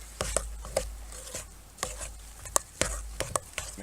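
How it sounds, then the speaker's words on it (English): Shredded Tex-Mex cheese being mixed into a potato filling for loaded potato skins at a campsite, heard as close, irregular soft taps and scrapes of a utensil against a dish, with no talk. "Mix that all in there like that."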